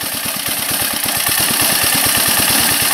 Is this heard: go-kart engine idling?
yes